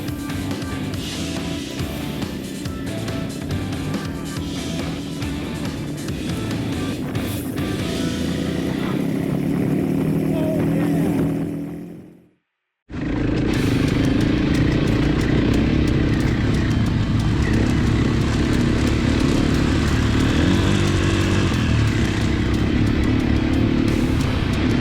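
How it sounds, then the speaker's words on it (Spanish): Off-road motorcycles, a Husqvarna FE 450 and a KTM 690, roar loudly and continuously through puddles, their engines dropping to a brief silence midway before the loud riding noise resumes. "pocas cosas más divertidas que romper charcos con tu moto"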